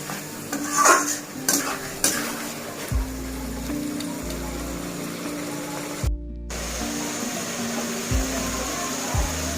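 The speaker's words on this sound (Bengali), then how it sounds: "আমি পাশে ঘিরে মশলাটাকে ভালো করে কষিয়ে নিয়েছি।" Spice masala with tomato paste is stir-fried in a pan for a goat meat curry, a constant close sizzle broken by repeated scraping stirs and utensil knocks against the pan, with no voices.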